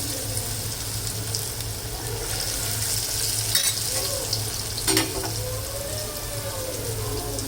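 Chilli chicken pieces frying in hot oil, a steady close sizzle and crackle throughout with a couple of sharper pops and a faint low hum underneath.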